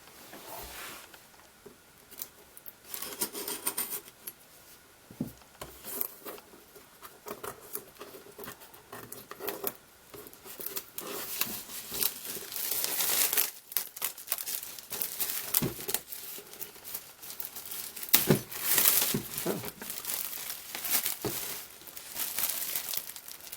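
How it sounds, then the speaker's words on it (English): Plastic wrapping is torn and crinkled off a boxed 1/25 scale 1941 Plymouth Coca-Cola model kit, with irregular crackling, rustling and ripping close by, in bursts over a long stretch, without talk. "Well, let's go ahead and tear it open."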